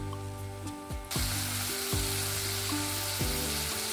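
Okra chorchori simmering in a pan after water is added, a dense, steady bubbling sizzle with low tonal hum and occasional stirring scrapes.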